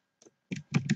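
Typing on a computer keyboard: a faint tap followed by a few quick, close key clicks in a short burst against silence.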